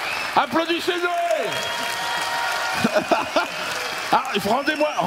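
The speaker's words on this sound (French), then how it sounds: "On l'applaudit bien fort." Applause from a stand-up comedy audience at a Dieudonné show rolls on under a voice, with bursts of clapping rising and falling as he talks over it.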